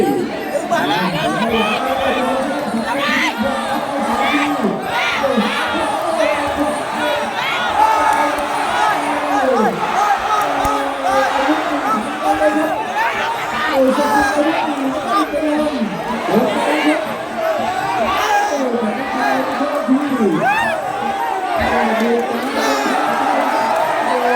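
A crowd at a women's Muay Thai title bout keeps up loud, continuous cheering and chatter, with shouts and whoops rising and falling over a ringside commentator talking throughout.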